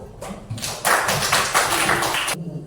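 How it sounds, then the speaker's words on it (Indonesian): Classroom applause for a student group after its presentation: a brief patter of claps swells into a dense burst of clapping for about a second and a half, then stops abruptly. "kita berikan aplaus untuk kelompok 1"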